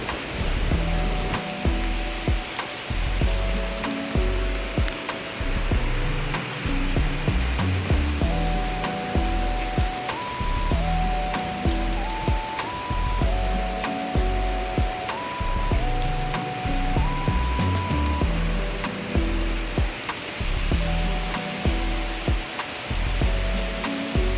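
Steady rain falls in Pedana, Krishna District, a constant pattering hiss that continues beneath a repeating melodic music track for the whole stretch.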